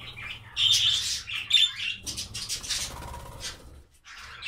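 A pair of pet budgerigars chirps and chatters close by in quick, busy bursts of squeaks and warbles, with a brief lull before the calls resume.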